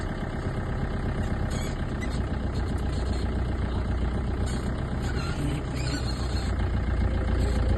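A car engine idles steadily and loudly up close, a continuous low rumble with no pauses while the vehicle reverses at an elephant crossing in Valparai, Kerala.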